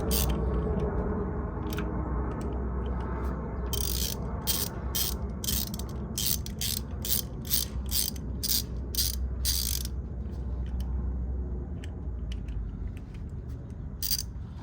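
A hand ratchet with an extension and 10 mm socket works on a 2012 Honda Civic four-cylinder's spark plug bolt, giving bursts of rapid clicking over a steady low engine-bay hum, close up.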